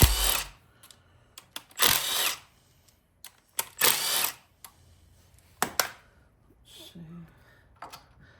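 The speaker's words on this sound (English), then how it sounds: "Let's pull out the bolts on this timing gear." A power tool spins out timing gear bolts on a 408ci small-block Chevy with a flat camshaft, in several short, loud whirring bursts separated by pauses and faint clicks of handling.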